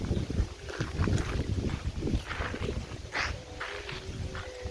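Strong afternoon wind buffets the microphone in open rice fields where a large paper Isan kite with a 100 cm hummer is flown, a rough continuous roar with gusty surges and a faint thin tone humming in the background.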